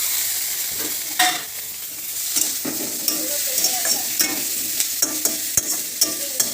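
Ridge gourd and eggplant sizzle in hot oil in a pan while being stirred, with steady frying hiss broken by repeated scraping clicks of a spatula, close and moderately loud with no talking.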